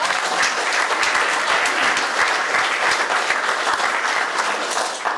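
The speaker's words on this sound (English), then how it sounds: "Think she deserves a round of applause?" A room full of people applauding for a birthday at a League of Women Voters candidate debate, steady even clapping that holds strongly throughout.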